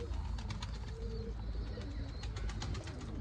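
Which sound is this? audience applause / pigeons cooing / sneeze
pigeons cooing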